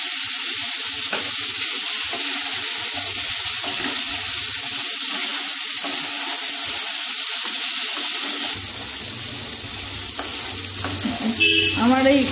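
Pumpkin and potato pieces sizzle steadily in a hot pan while being stirred, a continuous close fry with scraping stirs and a brief watery clatter near the end.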